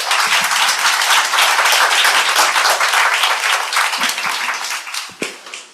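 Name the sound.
audience applause after a panel session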